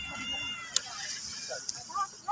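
A cat meows in short, rising calls near the end, amid busy café chatter and clinking in Kuwait City, close but partly under the background voices.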